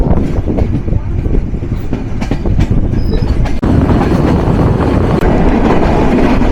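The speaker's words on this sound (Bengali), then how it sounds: "Majhgram railway junction through pass আন্তনগর silk city express" The SilkCity Express intercity train passes through Majhgram railway junction close by, a loud rumble with rhythmic wheel clatter and brief squeals, swelling heavier midway as carriages roll past.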